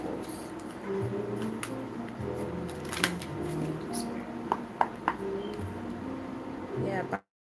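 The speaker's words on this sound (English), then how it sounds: "A couple more shuffles." Tarot cards shuffled by hand during a live reading, a soft papery riffling that recurs in brief bursts over a steady background of voices and tones.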